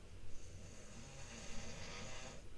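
Rocco snoring somewhere in the room, a faint soft rasping breath that repeats in low pulses, quiet and distant with no talk over it.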